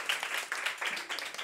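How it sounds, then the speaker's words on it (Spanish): Girls' football team in a locker room clapping together in a brief burst of applause, a quick run of fairly faint, sharp claps. "un fuerte aplauso para Eva."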